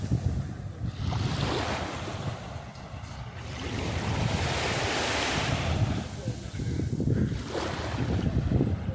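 Waves wash steadily onto an island beach while wind buffets the microphone, making a continuous surging roar that swells and eases.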